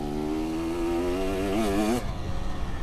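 A dirt bike engine runs on a riding track, holding a loud, buzzing drone near the listener that rises in pitch and warbles before dropping off sharply.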